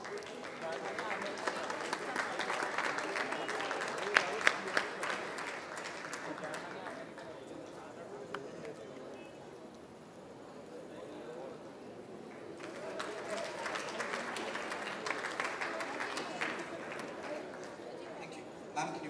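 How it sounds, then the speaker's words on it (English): Applause at a peace initiative event, a long fairly distant stretch of crowd clapping that dips briefly in the middle and then swells again, with chatter mixed in. "Ladies and gentlemen, a huge round of applause."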